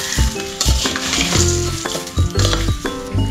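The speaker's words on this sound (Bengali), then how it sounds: "আমি এটাকে খুন্তি দিয়ে মিক্সড করে দিচ্ছি" Fried jhuro potatoes are stirred with a metal spatula in a pan, each scrape clanking loudly against the metal in an irregular rhythm over a steady, close sizzle.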